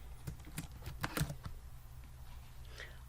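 Keys clacking on a computer keyboard in a short, uneven burst of typing, fairly close and moderately quiet over a low steady hum, tapering off toward the end.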